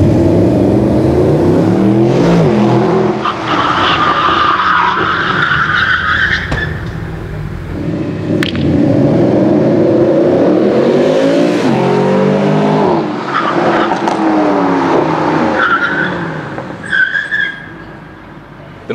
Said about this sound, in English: the SLSs accelerate to top speed and then have to brake very quickly within a confined space